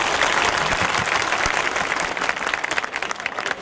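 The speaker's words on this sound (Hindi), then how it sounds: "तो सर के लिए एक जोरदार ताली हो जाए," Loud, sustained applause from an audience at a school New Year celebration at Om Gurukul Academy, dense clapping filling the whole stretch without pause.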